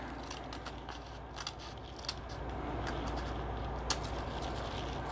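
Scissors snip through folded paper in a quiet room, a faint, steady run of small crisp cuts, with no voices.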